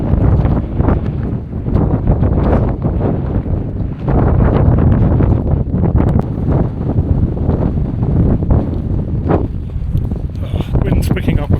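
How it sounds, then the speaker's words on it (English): Strong wind in an Australian alpine area buffets the microphone in heavy, continuous low gusts, loud and close, with speech heard beneath it. "Wind's picking up a fair bit, so I don't know how well any of the sound will come out"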